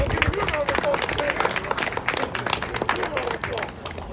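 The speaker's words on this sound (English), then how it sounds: "give them a round of applause" An audience at a King County community safety and well-being event gives a round of applause, a dense patter of clapping from a crowd with some voices mixed in, fairly steady throughout.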